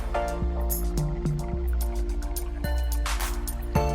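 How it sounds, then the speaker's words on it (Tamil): Oil goes onto a hot dosa pan while a chicken roll is being made, giving sharp sizzling crackles and drippy pops over a steady frying hiss, close and fairly loud, with no voices. "இது தோசை தவால போட்டு கொஞ்சமாக ஆயில் சேர்த்துக்கோங்க."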